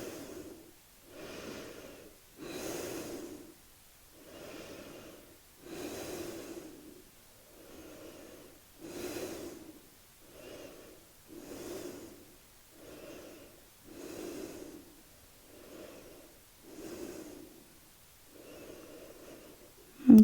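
Slow, deep yoga breaths repeat in an even rhythm, each inhale and exhale a soft, close airy rush with pauses between them.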